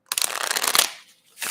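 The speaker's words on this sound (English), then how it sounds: "Don't shuffle. So loud." Playing cards are riffle-shuffled once, up close and loud, in a quick rattling burst of under a second, followed by a faint shuffle afterward.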